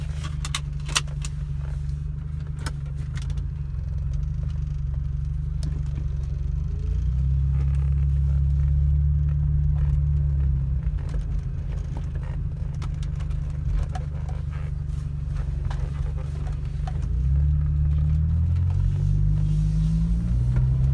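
A 1993 Volvo 945 car being driven, its low engine rumble steady and loud throughout, swelling as it accelerates around the middle and again near the end, with light rattles and clicks over the drone.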